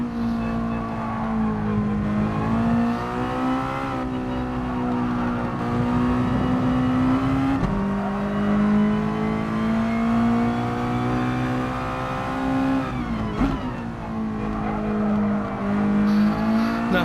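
Mazda touring car engine in a racing game, held at the rev limiter in third gear at Interlagos, a loud, steady high buzzing drone with slight pitch dips and recoveries, alone with no talking.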